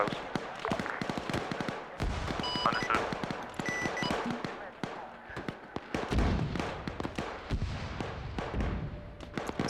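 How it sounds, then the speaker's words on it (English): Rapid bursts of gunfire crackle through a military video game battle near a church, with sharp close shots and scattered distant fire running continuously under radio chatter. "Coming up to the church, hearing gunshots close."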